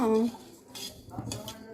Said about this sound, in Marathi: आता ही पातेलं मी गॅसवर ठेवलं आहे